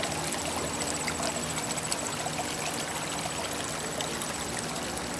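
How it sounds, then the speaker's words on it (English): Water trickles and splashes continuously over a cascading rocks fountain, a close, steady babbling flow with no voices over it. "You kind of hear that trickling water sound there,"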